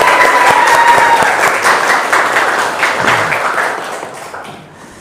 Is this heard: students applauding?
yes